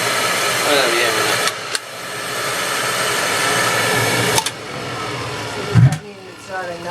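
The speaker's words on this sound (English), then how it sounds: "Spitting and sputtering, the oil coming out there" An old Burnham oil boiler burner roars with a steady broadband rush, sputtering and spitting in uneven bursts with a sharp pop near the end, while someone talks over it.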